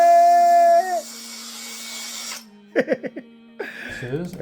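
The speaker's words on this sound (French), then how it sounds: "On va percer." An electric drill whines for about a second as it bores a small hole during the building of a life-size 3D-printed model, then winds down, followed by brief vocal sounds and handling noise.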